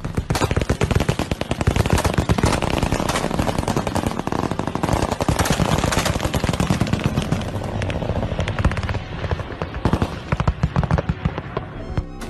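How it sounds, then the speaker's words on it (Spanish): Heavy military gunfire over Tehran, dense rapid bursts of shots and booms at a distance, continuous and crackling, with faint background voices. "el ejército intentó derribar el objeto utilizando artillería pesada"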